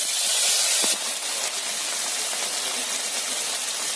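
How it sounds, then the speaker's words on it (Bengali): Spices with turmeric and salt fry in hot oil left from frying prawns, making a loud, steady hissing sizzle that eases slightly after a sharp clatter near the start, with no talking. "হলুদ, নুন, ভালো করে মশলাটা ভেজে নেব।"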